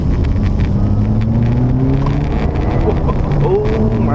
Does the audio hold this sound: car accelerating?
yes